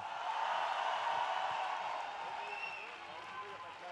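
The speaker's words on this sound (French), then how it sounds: "Je vous demande d'applaudir Mathilde Larère, s'il vous plaît." An audience at a festival applauding Mathilde Larère, a faint, sustained wash of clapping and crowd noise that slowly eases off, heard at a distance.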